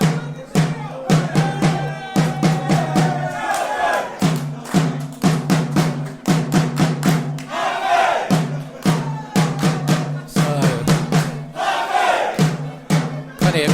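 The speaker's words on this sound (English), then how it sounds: "that crowd reaction's coming from the Waltham Abbey fans at the moment" Waltham Abbey supporters at a non-league football match against Hertford chant and shout in rhythmic bursts, a loud, close crowd with beating, clapped accents repeating steadily throughout.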